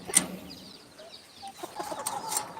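Chickens and chicks cluck faintly in a farmyard, with a few soft, scattered calls and chirps over a quiet background, alone without talk.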